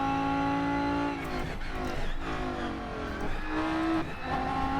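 A race car engine revs and drops through the gears in the RENNSPORT racing game as the driver slides with traction control off, a loud continuous close engine note that rises and falls repeatedly, with brief tyre scrubbing.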